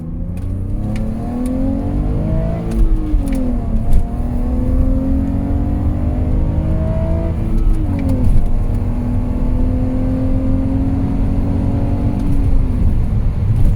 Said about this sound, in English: the sound from the 6-cylinder is great